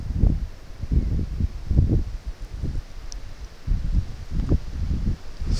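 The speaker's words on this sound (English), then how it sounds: "the wind has picked up quite a lot" Gusty wind buffets the microphone at a model glider competition field during an FAI F5J contest in Kulmbach, Germany, a loud low rumble that surges in irregular waves throughout, with no voices.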